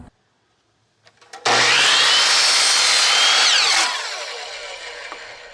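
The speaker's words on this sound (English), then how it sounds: "So first I cut the short pieces to form the rough opening for the windows." A power saw rips through wooden pieces for a shed window opening: after a quiet start and a brief spin-up, a loud, close cutting roar lasts over two seconds, then winds down into a fading motor whir.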